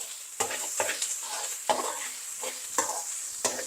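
Egg fried rice being stirred and tossed in a pan, with a spatula scraping the metal in regular strokes about every half second over a continuous soft sizzle; close and fairly quiet, with no talking.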